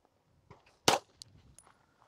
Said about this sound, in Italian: per prima cosa vediamo dove spara l'arma e se ci sono da fare modifiche regolazioni alle mire